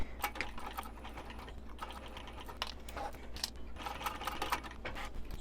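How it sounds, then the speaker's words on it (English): Home sewing machine stitching a quarter-inch seam on a small fabric coin purse with a swapped-in presser foot, a steady close mechanical whir with rapid needle clicks in short bursts, no talking. "now we're going to stitch this on at 1/4 of an inch seam with 1/4 of an inch seam allowance"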